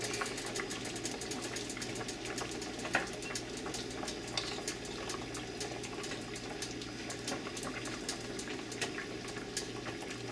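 A pot of chicken stew with drop dumplings bubbles steadily on the stove, a continuous close simmering fizz and pop with a low hum underneath.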